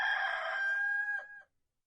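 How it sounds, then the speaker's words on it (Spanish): A rooster crows once, a loud close cock-a-doodle-doo that holds its pitch before trailing off and cutting to silence. "en ese momento cantó el gallo"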